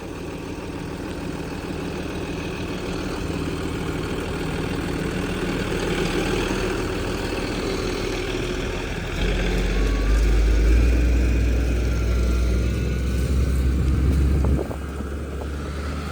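A tractor engine drones steadily at a low rumble while setting off to plough a maize field with a five-furrow plough, rising to a heavier, louder throb partway through before settling back, with no talk.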